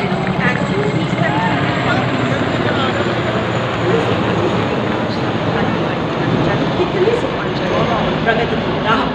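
At the 2021 Republic Day parade in New Delhi, one Chinook and two Mi-17 helicopters pass in formation, a steady broad rotor rumble under continuous talk.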